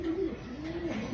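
A pigeon of the Germaine Imbrecht line gives a soft, close, low coo that rises and falls in two short phrases, with no talk over it.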